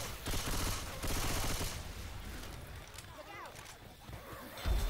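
Bursts of automatic gunfire in Left 4 Dead 2 at the Dark Carnival, a rattling stream of rapid shots for under two seconds that thins into scattered noise, with a voice shouting over it.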